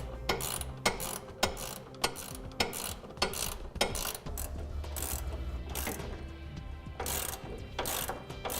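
A hand ratchet tightens the frame clamp bolt on a fifth wheel hitch beneath a 2004 Ford F-350 Super Duty, producing repeated close, crisp clicking strokes in a steady rhythm, with no talking.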